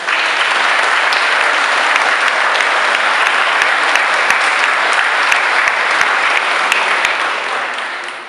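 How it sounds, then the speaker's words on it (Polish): Long, loud, even applause from a large crowd at the closing Mass of a walking pilgrimage in Wieruszów, sustained for several seconds before tapering slightly at the end. "Brawa. Jeszcze raz brawa."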